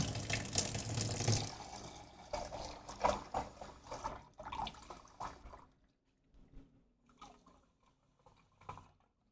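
Ice cold tap water runs into a measuring cup in a steady close stream, then stops, leaving a few faint trickles and small splashes.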